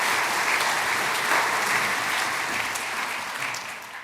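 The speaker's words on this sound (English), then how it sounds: "a big round of applause" Luncheon guests at a jury improvement event give sustained applause, a dense even patter of many hands at moderate volume that slowly fades out toward the end.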